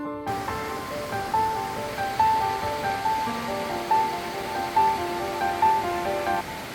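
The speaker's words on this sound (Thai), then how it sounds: "ตอนนี้เราก็มาถึงน้ำตกอัลลากากันแล้วจ้ะทุกคน" Algar waterfall near Benidorm, Spain: a steady, rushing wash of falling water runs evenly underneath, with music playing over it.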